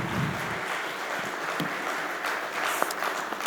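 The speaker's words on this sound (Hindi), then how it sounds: "सबसे पहले तालियां तो बनती हैं" Audience applause at a business leadership forum, a steady wash of clapping sustained throughout at moderate level with no talk over it.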